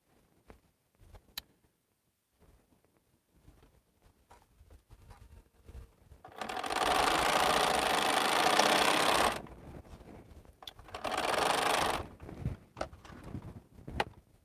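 A domestic sewing machine stitches chain-pieced quilt block units, starting with a few soft ticks and clicks, then running in two steady, close, humming bursts with brief pauses and mechanical taps between them.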